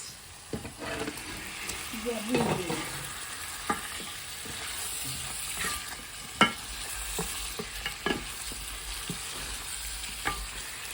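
Fish head and tail pieces fry in hot oil with a steady soft sizzle, broken by scattered stirring clacks and scrapes of a spoon in the pan, fairly quiet and close.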